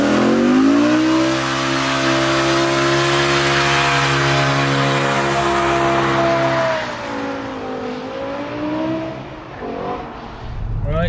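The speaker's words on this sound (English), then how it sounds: "I'm even revving it here." A BMW E60 M5, fitted with a carbon plenum, revs loudly and close by, its engine note holding steady and then swinging up and down with a snarling, harmonic-rich tone, while a voice talks over it.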